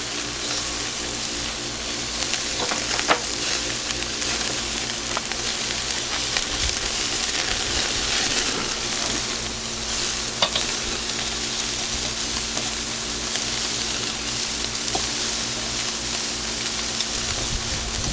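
Marinated al pastor pork chars on a hot griddle with a steady, dense sizzle and hiss that runs unbroken throughout, close and fairly loud, with no voices.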